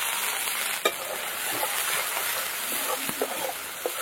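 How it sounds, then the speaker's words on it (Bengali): Chopped onions fry in hot oil with cumin, bay leaf and dried chilli, a steady close sizzle broken by a few soft stirring scrapes and clinks of a spoon against the pan. "পেঁয়াজটা ভালো করে একদম লাল করে ভেজে নেব"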